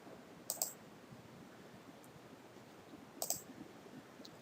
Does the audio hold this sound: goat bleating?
no